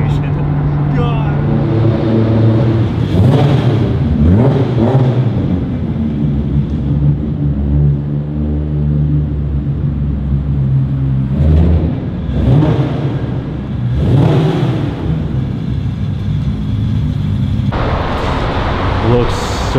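A turbocharged car drives along, its engine close and loud, revving up and easing off in repeated surges as it accelerates, with voices now and then over the drone.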